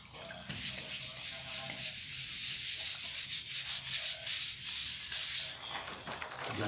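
A plasterer's steel trowel sweeps skim coat plaster across a wall in repeated smoothing passes. The close, steady scraping and rubbing rises and falls with each stroke and continues with no talk.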